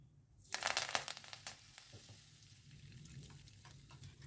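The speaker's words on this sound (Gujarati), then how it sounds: "હવે એ જ રીતે લીમડીને પણ તળી લઈશું." Curry leaves hit hot oil with a sudden loud burst of crackling sizzle that spits for a second or so, then settles into a quieter, steady frying hiss with occasional pops.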